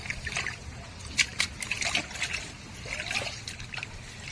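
Gentle water trickling and light sloshing as water drains out through a fishing net set for catching koi fish, soft and intermittent with small splashy bursts.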